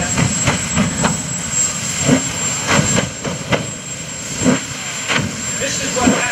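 A jet-powered golf cart at the 2015 Greenwood Lake Airshow roars steadily with repeated afterburner surges, rhythmic bursts every second or so over a constant jet whine, with a public-address voice heard over it.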